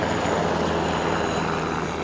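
A Cougar military helicopter comes in during an army exercise, its engine and rotor making a loud, steady drone that holds unbroken throughout with no voices over it.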